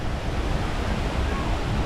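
The White River in downtown Indianapolis flows with a steady, close broadband rush of water, continuous and fairly loud with no talk over it.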